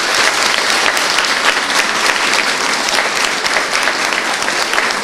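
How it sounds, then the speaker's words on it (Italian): An audience at a foundation celebration claps steadily and loudly, a thick continuous wash of applause lasting the whole moment with no voices over it. "Con un applauso allora."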